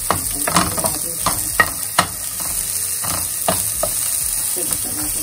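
Onion frying in a pan, with a steady hot sizzle broken by sharp clatters and scrapes of stirring, close and fairly loud.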